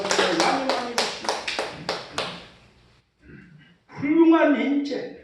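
A church congregation clapping at a Children's Sunday service: about a dozen sharp, evenly spaced claps ring out, then fade, followed by a voice speaking.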